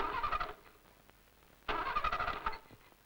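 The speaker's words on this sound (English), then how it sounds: "Repeated attempts with the starter." A 1950s petrol car's starter motor cranks in two separate bursts, but the engine fails to catch because cold petrol stays liquid; each whirring crank is faint and recorded without talk.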